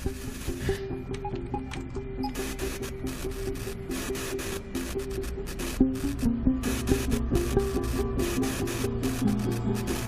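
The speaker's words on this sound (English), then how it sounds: "It's just gonna sound like static, so." Slowed-down crackling, hissing static with a faint underlying Morse code tone pattern broken into short bursts and gaps, steady and moderately loud throughout.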